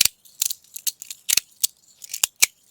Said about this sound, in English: it actually has little balls in there, in this little pocket, so it gives it this kind of rattly